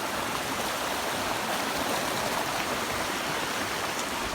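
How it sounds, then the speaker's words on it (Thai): Rushing water pours continuously like a waterfall at an outdoor venue, a loud, unbroken hiss that stays steady throughout. "เสียงเสียงน้ำนี้แบบเหมือนนี้เลยเนาะ ถ้าเป็นเมืองไทยก็น้ำตกเนาะ"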